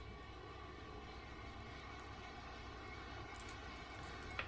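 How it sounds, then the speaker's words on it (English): An Airbus Beluga cargo aircraft at Perth Airport produces a faint, steady, distant engine drone with a faint high whine. "There she is, ladies and gentlemen. The Airbus Beluga."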